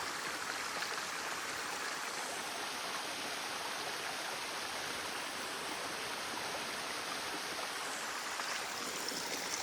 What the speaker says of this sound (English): I have crossed this creek a couple of times, and it's nice to see flowing water like this